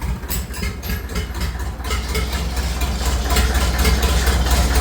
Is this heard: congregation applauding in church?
no